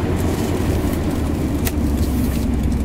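Interior drone of a Mercedes-Benz 450SEL W116 while driving, a steady low engine and road rumble with tyre hiss, continuous and close, without talk.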